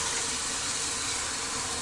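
Water gushes steadily from a kitchen tap into a copper-bottomed cooking pot, a loud, close, continuous rushing with no talking.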